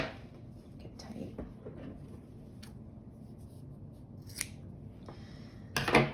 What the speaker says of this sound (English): And then you can just cut off the excess.